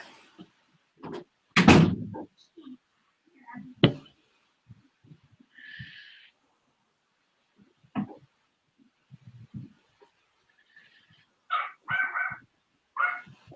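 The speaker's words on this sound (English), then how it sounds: "Still hear the dogs." Several dogs bark intermittently at a distance, sharp isolated woofs and a few yips separated by quiet pauses.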